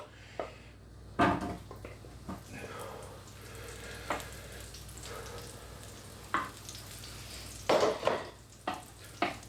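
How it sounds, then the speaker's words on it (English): Potatoes stirred in hot oil with a spoon in an Instant Pot for roast potatoes, giving a steady sizzle under several louder scraping and clattering strokes spread through the stretch. "Just cover them with the oil, the hot oil."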